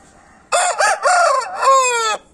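A rooster crows once, loud and close, a long multi-part cock-a-doodle-doo rising and stretching out at the end, with quiet before and after.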